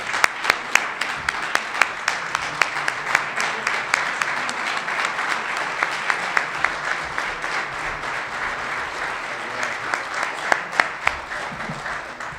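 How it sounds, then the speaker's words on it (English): Sustained applause from an audience at a Rotary club police recognition meeting, many hands clapping steadily and fairly loud for the full length, with a few sharper claps standing out. "Give her a round of applause."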